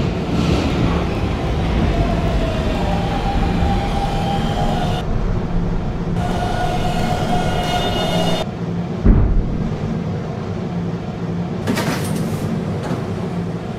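An R152 subway train on the 11 local line in the Roblox game PTA Subway runs loud and steady, a continuous rumble with rising and falling motor whine and brief gaps as it moves between stations.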